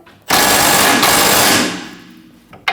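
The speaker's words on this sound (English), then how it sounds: "Using an 18mm socket and an 18mm wrench to hold the nut on the back side, we're going to remove the bolt for our lower control arm." A power tool spins an 18mm socket to remove the lower control arm bolt on a Volkswagen Passat's rear suspension; one loud, close burst of buzzing rattle lasting over a second, then tapering off, with a short metallic knock at the end.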